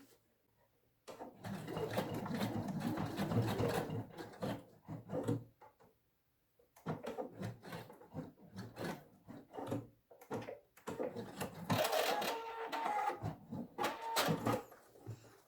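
A sewing machine stitches a small section of fabric lining on a frasqueira bag, running in sustained bursts with short pauses between passes, close and fairly steady.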